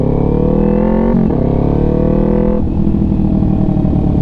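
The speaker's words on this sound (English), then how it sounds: "Practice that first gear downshift" Motorcycle engine held at steady revs, then a drop in pitch with a clunk at a downshift into first gear, settling into a lower, rougher idle-like drone; loud and close throughout.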